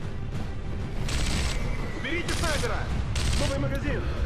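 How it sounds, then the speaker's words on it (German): Gunfire in the video game Sniper Elite V2 during a World War II level: rapid bursts of shots and scattered booms over a dense, steady battle din, with whistling and ricochet-like sweeps, no talking. "Und von wo schießen die jetzt?"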